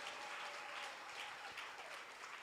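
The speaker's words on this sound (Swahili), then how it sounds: "Pigia Bwana Yesu makofi ya shangwe" A church congregation claps together in a lively, sustained burst of applause that fills the whole moment without pause.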